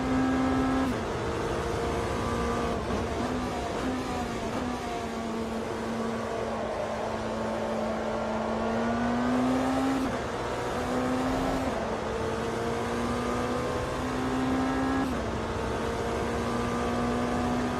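Steady, even drone of an LMDh prototype race car engine in the Automobilista 2 racing sim, holding a near-constant pitch with gentle rises and dips over a long stretch, moderately quiet and without talk.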